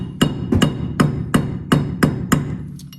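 A hammer taps a chisel braced against a car wheel stud during a front wheel bearing change: seven sharp, loud, close metallic strikes in an even rhythm about a third of a second apart, with no talking.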